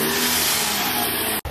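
A BMW M5 engine revs hard in a steady, loud, close roar that holds for over a second before cutting off abruptly, with a brief quieter tail after.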